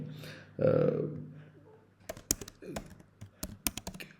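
Rapid clicking keystrokes on a computer keyboard, close and crisp in irregular bursts, following a short stretch of someone talking.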